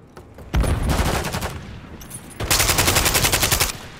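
Bursts of rapid automatic gunfire in a Call of Duty match, two loud sustained volleys of close machine-gun fire separated by a short lull.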